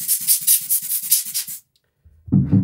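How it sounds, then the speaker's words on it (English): A rubber rocket blower puffs air onto a camera lens: about eight quick, evenly spaced squeezes, close and crisp, then it stops and a soft handling bump follows. "And then use the rocket blower."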